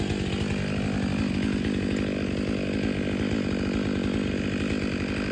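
Close, loud chainsaw runs steadily at high revs while it trims the hinge of a large tree being felled with cables on a tight, hazardous site, with no talking.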